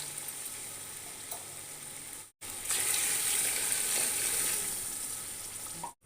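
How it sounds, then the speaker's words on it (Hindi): Water poured into a pot of soaked rice, salt and ghee for chicken biryani: a soft hiss, then a brief cut and a steady, louder gushing pour that fades near the end. No voices. "इसके अंदर अब हम पानी ऐड करेंगे।"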